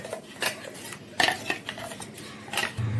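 Spice paste is poured from a container into a dish, making several light clinks and scrapes of utensils against the cookware, sporadic and close, with no voices.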